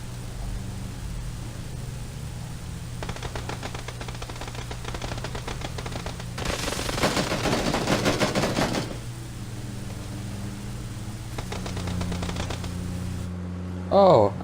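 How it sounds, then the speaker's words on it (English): Distant automatic gunfire in the battle royale game PUBG, crackling bursts repeating over a steady background hum, the densest stretch in the middle, with no talk over it. "Oh, we're taking fire from somewhere."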